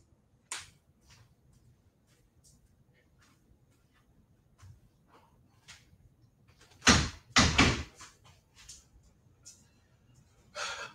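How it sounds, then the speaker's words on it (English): An indoor room door pushed shut, a loud close rumble and thud in two quick bursts midway through, set among quiet rustles and small handling clicks. "Let me close my door and turn off my AC actually,"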